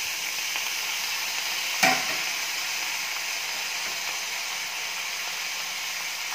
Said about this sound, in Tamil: லைட்டாக உப்பு போட்டு ஆனியனை ஃப்ரை பண்ணணும்.